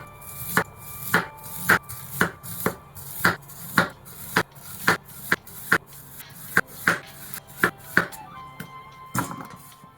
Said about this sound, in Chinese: 切成滚刀块